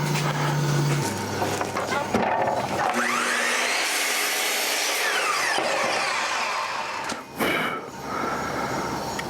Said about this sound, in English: Take it over to the miter saw.